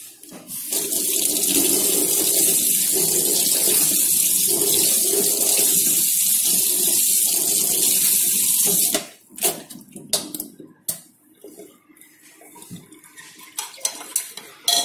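Tap water runs steadily while lab glassware and utensils clatter in a sink during washing, with a continuous hiss for about nine seconds before the flow stops and scattered clinks and knocks follow.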